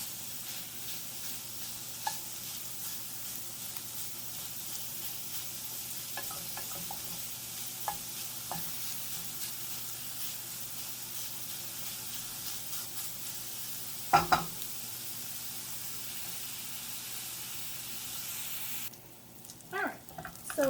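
Sausage for sausage gravy frying in a pan: a faint, steady sizzle runs throughout, broken by a few light clinks of stirring and a brief louder scrape near the end.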